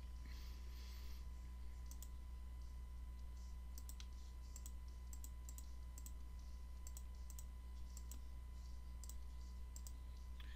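Rapid mouse clicks while working in Adobe Illustrator, a quick series of light, crisp taps in small clusters over a steady low electrical hum, close but faint.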